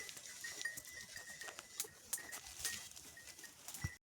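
A herd of goats bleats in the open, heard faintly as overlapping calls with scattered rustling and thin distant bird-like cries.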